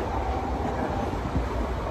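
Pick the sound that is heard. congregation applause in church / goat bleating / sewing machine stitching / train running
train running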